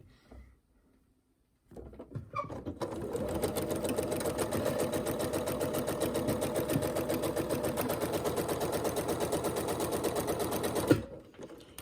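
Sewing machine chain piecing quilt pieces: after a brief quiet handling moment it starts up and runs steadily for about nine seconds with a fast, even mechanical stitching rattle, close and alone, then stops.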